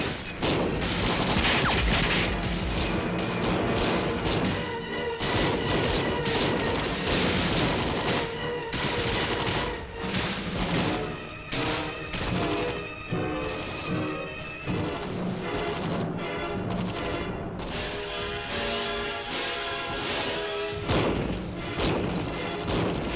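Rifle fire from riflemen in a Vietnam-era training film crackles in dense, continuous volleys of overlapping shots and bursts, loud and close throughout, with heavy thumps and booms mixed in.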